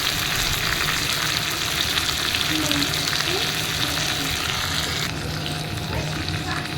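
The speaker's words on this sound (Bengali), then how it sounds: "এবারে আমি আগুনটা দিয়ে এটাকে ভালো করে আলুটাকে ভাজা করে নেবো" Potatoes fry in a pan with a steady, dense sizzle that runs throughout, close and fairly loud, with faint stirring and no talk.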